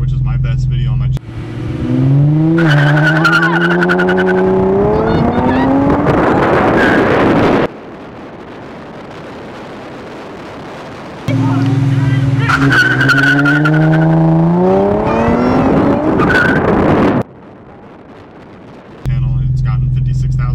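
Nissan 350Z with an intake and straight pipe racing a Civic Type R, heard as two loud, close runs of engine revving up through gears with rising whine, separated by quieter wind-buffeted stretches, with voices talking.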